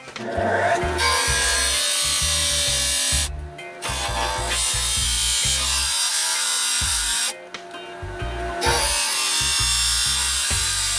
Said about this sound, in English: I'm just going to take it to the grinding wheel and grind it off